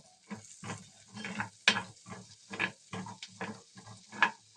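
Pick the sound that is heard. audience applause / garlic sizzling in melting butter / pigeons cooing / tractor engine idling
garlic sizzling in melting butter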